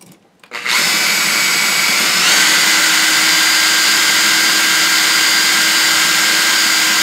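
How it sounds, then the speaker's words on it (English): The motorized rotor of a Meccano Maker System tactical copter model spins up after a short click and then whirs continuously, loud and close, with a steady high-pitched motor whine that holds for several seconds. "So I'll crank up the rotor and I'll see you again."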